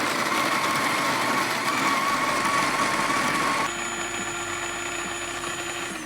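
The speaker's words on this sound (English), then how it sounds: "And here's the sound of the Smart Grinder Pro" A Breville Smart Grinder Pro grinds coffee at a coarse setting, a steady motor whir with a high grinding whine that shifts partway through into a smoother, slightly quieter tone, heard alone.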